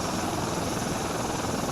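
Dense, steady thumping rotor and engine roar of a surveillance helicopter in a video game, loud and continuous throughout with no voices.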